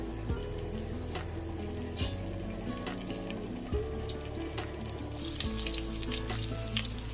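Rasam soup bubbling in a pot on a gas stove, a steady close sizzling and bubbling with a low repeating hum underneath, continuous throughout with no voices.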